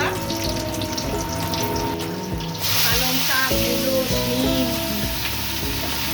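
Green chilies dropped into hot oil start a bright, crackling sizzle that rises suddenly partway through and keeps going steadily, close and fairly loud, with a faint voice in the background.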